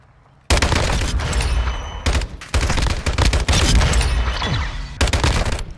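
Full-auto rifle fire in Modern Warfare 2019, loud close bursts of rapid shots broken by short pauses, several sustained strings with sharp cracks and booming echoes.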